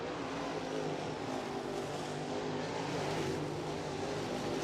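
Crate race cars run the back straightaway at East Bay Raceway Park during a heat race, a steady engine drone heard from a distance, faint and unbroken throughout.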